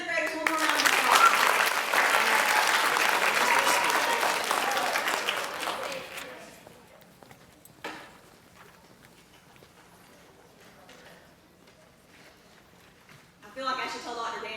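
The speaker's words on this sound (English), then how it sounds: "Let's give our 7th graders one more round of applause." An audience at a middle school literacy event applauds 7th grade winners: several seconds of loud, dense clapping that fades out, followed by quieter room sound and a few scattered claps.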